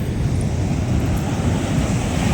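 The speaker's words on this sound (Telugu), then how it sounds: "నీళ్ళు బాగా ఇలా దొబ్బుకుంటూ అవి ఇక్కడ దాకా వచ్చేసాయి" Sea waves wash up onto a beach at Nellore in a steady, loud, unbroken roar of surf, mixed with gusty wind rumbling against the microphone. No voices are heard.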